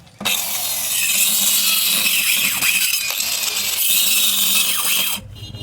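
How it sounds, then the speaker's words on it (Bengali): A handheld power cutter saws through wood being shaped into a door frame, a loud, steady, harsh whine that runs almost without a break for about five seconds before cutting off abruptly. "এবার দরকার পড়বে এই মেশিনের এই কাটার মেশিন"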